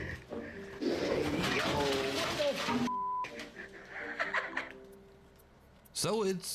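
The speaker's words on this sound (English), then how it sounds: "So it's only a black vulture" A black vulture cries out in the video game First Berserker Khazan, sounding a harsh, wavering call that rises and bends. It comes in brief bursts against game ambience, with someone talking over and between the cries.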